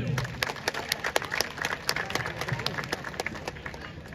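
Scattered clapping from a modest crowd at a get-together in Cuttack, sharp uneven claps rising and thinning over a few seconds, fairly faint with some murmur underneath.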